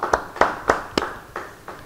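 A church congregation at a Bible study claps together in a slow, steady rhythm, about seven distinct claps that soften slightly toward the end in a reverberant hall.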